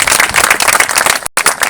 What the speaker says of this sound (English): can we get a round of applause for all of those?